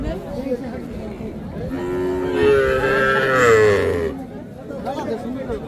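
Cattle at a busy calf market near Dhaka give a long, loud moo close by, heard over a steady murmur of crowd chatter and nearby voices.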